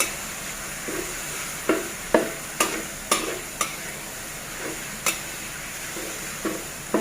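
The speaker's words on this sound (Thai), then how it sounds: "พัดกระทะไงเนาะค่ะ" Stir-frying ground pork in a hot wok with scattered sharp scrapes and clanks of a utensil over a steady background hiss, at an irregular pace.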